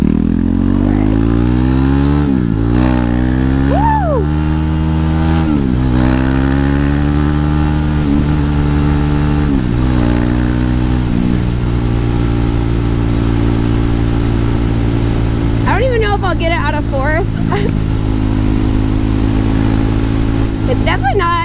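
A KTM 390 Duke motorcycle engine idles steadily nearby, rising in several short revs that swoop up and fall back, with a person talking over it for much of the time.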